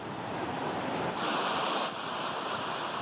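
Rushing floodwater in Bungo Regency, Jambi, strong enough to sweep away village bridges: a steady, loud roar of churning water with wind-like hiss that holds unbroken throughout, no voices.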